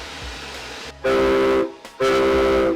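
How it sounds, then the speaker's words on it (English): Two loud, sustained blasts of a model train whistle on a Lionel club layout, each about a second long, separated by a short gap, with rumbling in between. "Oh, we got a whistle here?"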